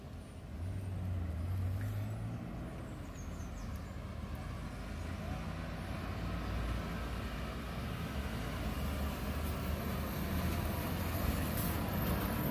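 Buses of Local Aroruense and Viação Borborema at a bus station, a steady low diesel engine rumble idling and moving with a continuous station din, fairly faint and unbroken.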